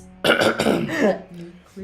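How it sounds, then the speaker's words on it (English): Someone clears their throat with a rough, gravelly rasp up close, followed by a brief murmur. "Well, now I can clear my throat."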